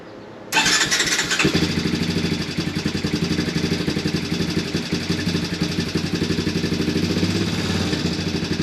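An old Honda Recon ATV engine turns over and catches after a brief pause, then settles into a steady, loud, close-up idle with a fast even chug that carries on to the end.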